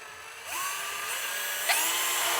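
A 90-degree drill with a reverse drill bit bores into the center of a broken exhaust manifold stud on an Eclipse GSX engine, a close, high whine that steadies and then rises in pitch, with no talk.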